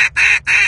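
A handheld duck call sounds out a demanding hen: two loud, nasal quacks, each held a fraction of a second with a short gap between, close up and alone.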